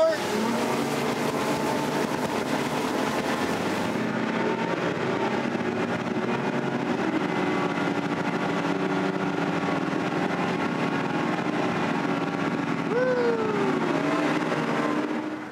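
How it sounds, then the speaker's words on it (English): An Edgewater 368CC center-console boat with three 300 hp Yamaha outboards accelerates, a loud sustained engine roar with rising tones, wind and water rush throughout. "you put three 300 horsepower Yamahas on the back, hit the throttle, and let's see what happens"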